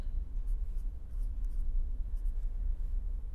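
A mathematical expansion built from polynomials is written out during a lecture, producing a steady, soft scratching and tapping of writing strokes over a low room rumble.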